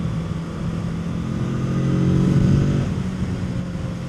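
A Kawasaki Z650 motorcycle cruises along the Croatian coast, its engine a steady, close hum that swells slightly in the middle and settles again, mixed with wind rush and no talking.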